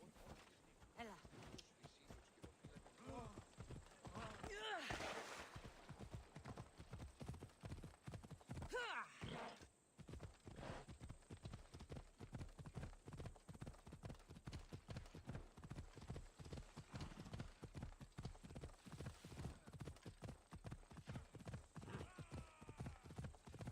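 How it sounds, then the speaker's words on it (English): Horse hooves clip-clop in a fast, steady rhythm throughout in the video game Assassin's Creed Odyssey, with a brief whinny partway through and faint background sounds. "all this horse riding in games"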